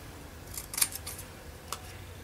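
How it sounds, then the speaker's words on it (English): Scissors cut paper for a scrapbook slender journal, several quick close snips in a short cluster followed by one more snip, with no talking. "I'm hopeless at cutting straight with the scissors."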